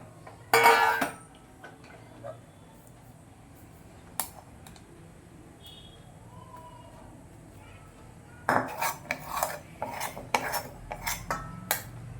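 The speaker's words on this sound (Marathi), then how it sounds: "आपलं मिश्रण तयार झालेलं आहे ते आपण एका प्लेटमध्ये काढून घेऊया" Semolina gulab jamun mixture being scraped from a pan onto a plate, with a loud clatter at the start, a few isolated taps, then a burst of quick metallic clinks and scrapes near the end.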